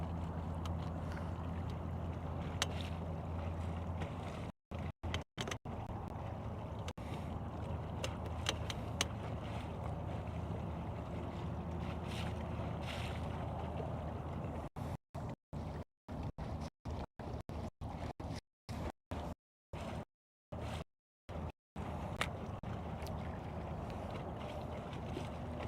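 A boat trolling motor hums steadily on a lake, with wind buffeting the microphone and water noise throughout, broken by several brief dropouts in the sound.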